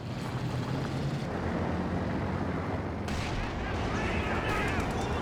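Pak 40 anti-tank gun firing in a Company of Heroes 2 battle, heavy booming shots buried in a dense, continuous wash of battlefield gunfire and explosions throughout.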